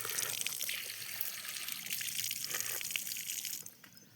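Drinking water is poured in a steady gushing stream that tapers off near the end, close and fairly quiet.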